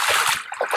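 Estuary water splashes and trickles into a hand-held sampling tube as it is filled, a close, bright burst of pouring and gurgling over a second.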